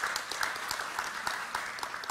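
Audience at a Korean welfare-policy forum claps steadily for an introduced panelist, a dense, even burst of many hands at moderate distance with no talking.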